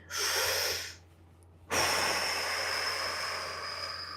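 Deep breaths come during a hip-stretching session, a long airy exhale followed by a pause and then another sustained, close breath.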